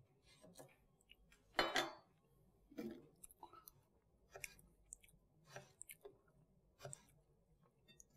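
A knife dices raw mango on a cutting board, giving a string of sparse, quiet knocks and clicks at irregular intervals, with one louder thump near the start.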